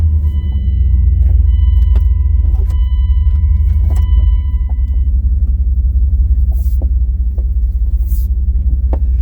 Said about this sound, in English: this is going to be very loud because I have a loud vehicle